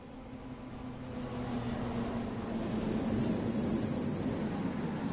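A train pulls into a station in the MaSzyna train simulator game, a rumbling roll that swells in loudness as it arrives, with a steady tonal hum and a thin high whine appearing partway through; no talk.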